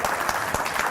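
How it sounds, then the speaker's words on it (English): A symposium audience in Palatka, Florida, claps briefly and steadily for a speaker, a dense patter of hands at moderate volume with no voices over it. "Give her a round of applause."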